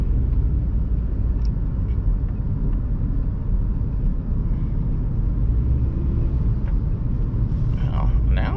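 A 2002 Toyota RAV4 with about 200,000 miles and a fixed transaxle fault, driven through the gears, heard from inside as a constant low engine and road rumble with faint clicks.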